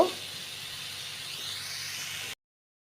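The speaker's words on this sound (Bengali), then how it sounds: "তো এগুলো আমি আগে আলুটা ভেজে নিব" Potatoes fry in a little oil with salt, giving a steady, close sizzling hiss that holds evenly for about two seconds and then cuts off abruptly into silence.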